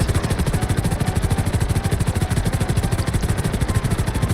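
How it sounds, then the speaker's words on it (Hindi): Steady, loud helicopter rotor chop from a game helicopter flying in GTA 5, a fast regular thumping pulse with engine drone that holds throughout with no talk over it. "और उसने इस तरह एक हेलीकॉप्टर पकड़ा और हवाओं में सीधा उड़ रहा है।"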